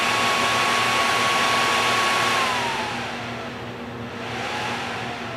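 A modded PS3 cooling fan runs at full speed with a steady, loud whirring hum and a high tonal whine that drops in pitch partway through, with no talk over it.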